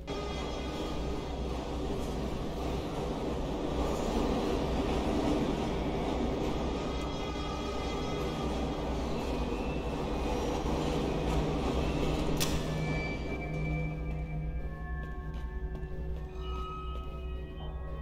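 An unpowered train in the video game Tomorrow gives off a steady, heavy rumbling drone that stays loud and even throughout, with a sharp metallic click partway through.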